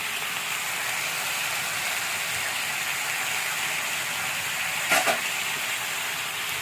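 Dried shrimp and dried fish frying with winter vegetables in a pan, a soft, even hiss of sizzling oil throughout with one brief clatter near the end, no voices.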